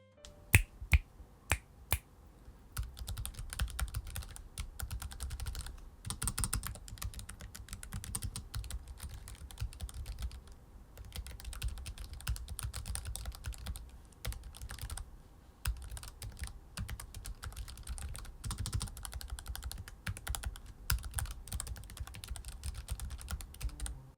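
Steady typing on an ASUS ROG Falchion RX Low Profile mechanical keyboard, crisp clicky keystrokes in continuous bursts, close and fairly quiet, no voices.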